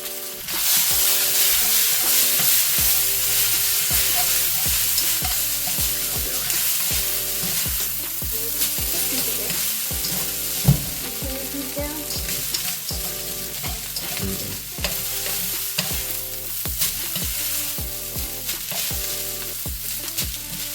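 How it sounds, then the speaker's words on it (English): Chao mian noodles frying in hot oil in a pot, a loud continuous sizzle with repeated scraping stirs throughout and one brief knock partway, no voices. "Now I'm gonna put more oil in there. And then add the noodles into it."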